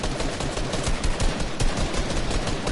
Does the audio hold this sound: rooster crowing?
no